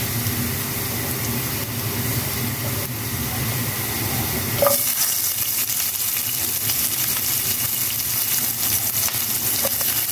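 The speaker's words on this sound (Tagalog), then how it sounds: "Pagkatapos ng luya ay ilagay na natin yung sibuyas at saka yung kamatis." Onion and tomato sautéing with ginger in a pan, a loud steady hiss that surges when the food goes in, then settles into continuous sizzling.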